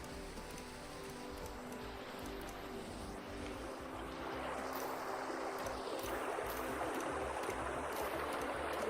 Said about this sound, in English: This is a lot more bubbly up here, and it sounds different. I think these are rapids.